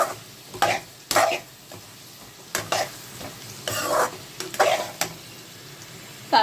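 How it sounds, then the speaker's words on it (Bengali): Potato pieces with salt and turmeric stirred and fried in a pan: a low sizzle runs throughout, broken by irregular bursts of spatula scraping and clatter, with a brief spoken phrase partway through. "দিয়ে ভালো করে নেড়ে ছেড়ে নেব"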